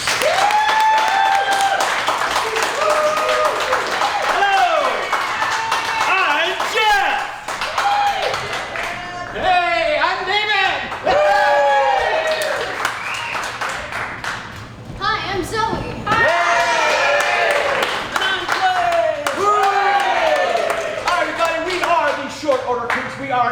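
Audience applause and clapping at a live improv comedy show by the Short Order Kooks, with cheering and voices mixed through the sustained clapping for most of the stretch.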